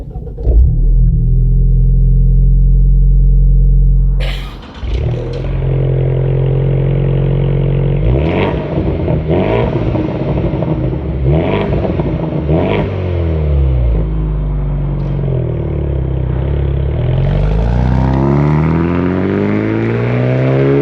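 A 2025 Ford Mustang EcoBoost convertible starts off loudly from close by, its engine rising and falling through repeated gear changes as it accelerates, then climbing steadily in pitch toward the end.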